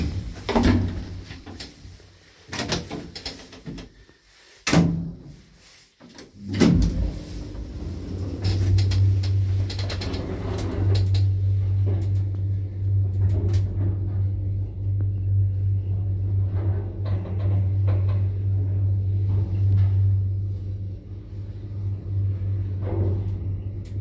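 A 1976 ZREMB weight-type elevator with Krakdźwig doors runs in Kraków: a series of clunks and bangs as the doors operate, then a steady low motor hum and rumble of the moving car that continues for many seconds.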